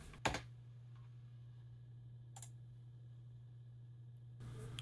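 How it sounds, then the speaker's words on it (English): A few sharp computer keyboard clicks, pressing Ctrl and V to paste, sound sparsely over a steady low electrical hum in a quiet room. "paste by pressing Ctrl and V on the keyboard and press enter."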